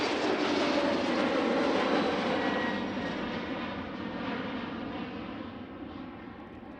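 Airliner taking off from runway 36L at Schiphol Airport, with an early rotation; a loud, broad jet engine roar that is close at first, then slowly fades as the aircraft climbs away.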